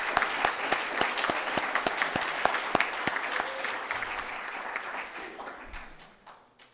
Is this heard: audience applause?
yes